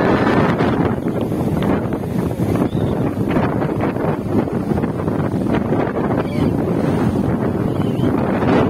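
Strong wind gusts across the Jatiluhur reservoir, a loud, unbroken roar buffeting the microphone for the whole stretch, with possible water noise beneath.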